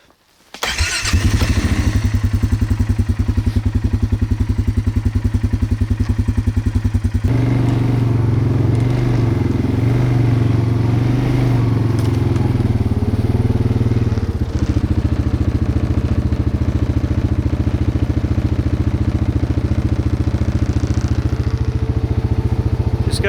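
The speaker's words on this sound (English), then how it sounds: "we're going to start this bike and we're going to continue on down the 90-acre trail" A motorbike starts with a sharp burst and then runs steadily, its loud engine droning close by without a break as it rides a swamp trail at night. The pitch shifts slightly as the bike moves along.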